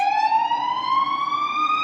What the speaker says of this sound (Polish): przejeżdża karetka